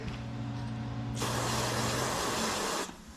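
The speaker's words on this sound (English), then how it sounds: "Give that one a little spray." A steady hiss of aerosol spray on the brakes of a 1961 Cadillac bursts on for about two seconds over a low background hum, then cuts off.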